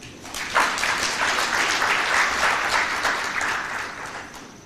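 Audience applause at the 5th Congress of the International Trade Union Confederation Africa in Nairobi, a steady dense wash of many hands clapping that swells early and holds loud throughout.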